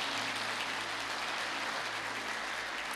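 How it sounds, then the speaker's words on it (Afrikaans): A church congregation claps their hands together during a service, a dense, steady wash of applause that carries on evenly for the whole stretch without a break. "Jy kan hande klap, ek wag nou al heel tyd vir hande klap."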